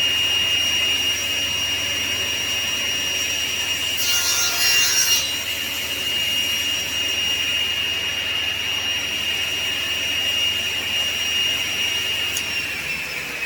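A table saw cuts wood pieces for a segmented bowl, a steady loud high whine running throughout, with a brief harsher burst of blade biting through the wood partway in, no talking.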